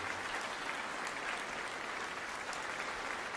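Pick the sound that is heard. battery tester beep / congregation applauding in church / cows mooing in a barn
congregation applauding in church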